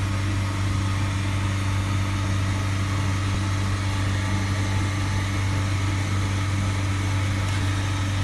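A car engine, with a diesel particulate filter fault, is held at a steady 3000 rpm during filter cleaning, giving a loud, unwavering drone with a strong low hum and constant higher whine, with no change in pitch throughout.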